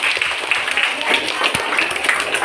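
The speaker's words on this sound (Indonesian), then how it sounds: "Bagus, tepuk tangannya" Classroom of students clapping for a classmate's answer during a maths lesson, a dense patter of small hands close by, with voices mixed in.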